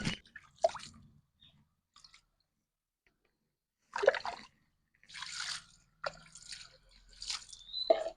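Cut jackfruit from a home tree being washed in water by hand, with intermittent close splashes, squelches and drips separated by near-silent gaps.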